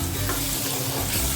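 Finely chopped onion frying in a hot kadai for chicken biryani while being stirred: a loud, continuous sizzle with stirring scrapes running through it, and no voices.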